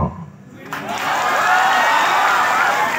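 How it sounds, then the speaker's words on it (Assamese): Audience at a motivational speech breaking into sustained applause and cheering, rising after a short quiet opening and staying loud and dense, a close crowd filling the hall. "এই হাত চাপৰিটো প্ৰমাণ কৰিলে"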